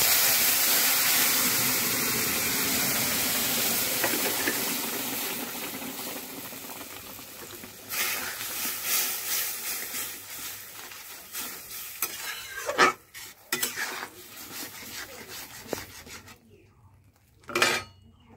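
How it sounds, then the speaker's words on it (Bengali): Taro stems tossed into a pan of browned garlic for chalta kochur dal, giving a loud, steady sizzle that fades over time, broken later by scraping stir strokes and a few utensil knocks. "রসুনটা লাল হয়ে গেলে তারপরে ডালগুলা, কচুর ডালটা দিয়ে দেব"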